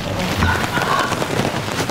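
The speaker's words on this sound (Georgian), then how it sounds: "ძალიან წვიმს გარეთ" Heavy rain pouring outside, a dense continuous hiss of falling water with low rumbling underneath, loud and close throughout.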